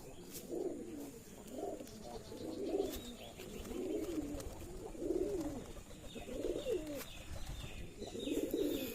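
Giribaz pigeons kept in Rajshahi, Bangladesh, coo in a repeated rhythmic series of soft, low rolling calls, with faint chirps and light background noise and no speech.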